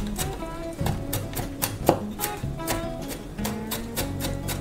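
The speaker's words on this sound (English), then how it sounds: "we're going to mince the garlic." A knife chops repeatedly on a cutting board while mincing garlic for a vegan lentil bolognese, sharp close taps in an uneven quick rhythm over quiet kitchen background.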